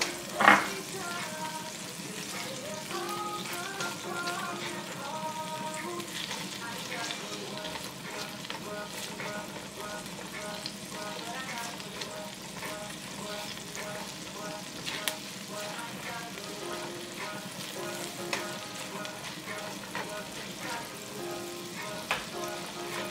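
Garlic sizzles steadily in a hot pan with butter for Tuscan butter shrimp pasta, a continuous close frying crackle with occasional stirring scrapes and no talking.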